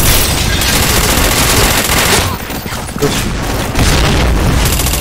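A bomb blast in the online shooter Point Blank, a loud, dense, sustained roar of explosion and gunfire filling the scene, with a player briefly shouting over it.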